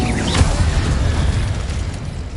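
An Incendio fire spell explodes in a wizard video game, a loud, dense booming burst with roaring low rumble that sustains throughout, with a brief whooshing sweep near the start.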